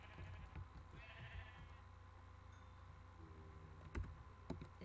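Minecraft sheep give a few short bleats amid soft keyboard typing and mouse clicks, all fairly quiet with no talking.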